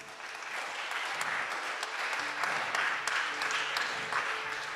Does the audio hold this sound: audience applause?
yes